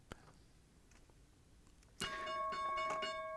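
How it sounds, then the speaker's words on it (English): Stock market closing bell, a sudden bright ringing tone that starts after a quiet stretch of faint ticks and clicks and rings on steadily, with no talking. "Now there's the closing bell."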